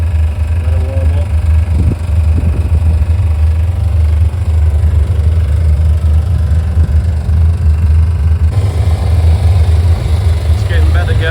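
Karcher diesel-fired hot pressure washer with its heater burner running and burning off excess diesel, a loud, steady low engine-like roar and rumble that carries on throughout with no break.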